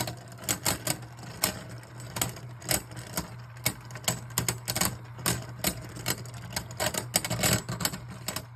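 Hasbro Beyblade Burst tops battling in a stadium during a tournament, a fast irregular series of sharp clicks and clacks over a steady whirring spin, close and fairly faint, with no voices.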